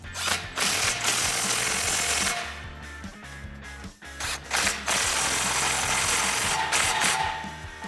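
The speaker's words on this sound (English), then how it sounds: "Now we'll tighten our two tailpipes." A ratchet clicks in steady bursts, tightening the exhaust tailpipe clamps on a 2015-2020 Ford F150 5.0L dual exhaust system. The sound is close and loud, with short pauses between runs.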